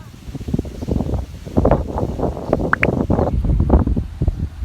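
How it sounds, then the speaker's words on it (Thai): Strong wind blows outdoors in gusty, rumbling bursts throughout, with voices murmuring underneath. "วันนี้คือแบบลมแรง"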